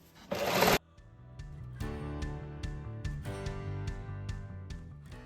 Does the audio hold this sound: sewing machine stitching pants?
yes